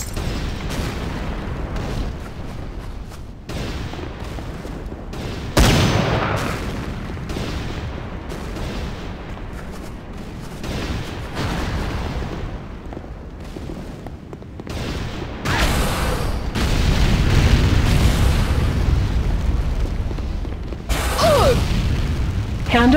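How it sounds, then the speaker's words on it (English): C4 charges go off in C&C Renegade against a Nod base. Repeated heavy booms and mechanical clatter are scattered across the span, and a longer rumbling blast swells in the second half. "C4 is set. Fire in the hole!"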